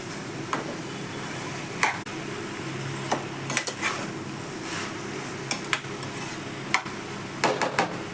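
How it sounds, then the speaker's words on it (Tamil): A spoon stirs eggplant thokku curry in a pan, giving scattered metallic scrapes and clinks at an irregular rhythm over a soft, steady cooking hiss. "கிளறி விட்டுக்கலாம்"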